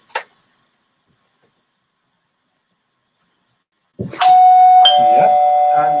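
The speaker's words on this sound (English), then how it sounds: "She presses the doorbell." A smart home doorbell press brings a short click, then silence, then a loud electronic chime with bright, sustained ringing tones that carry on to the end.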